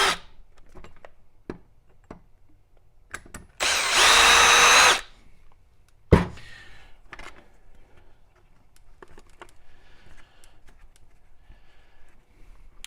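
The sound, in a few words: power drill removing screws from an RC car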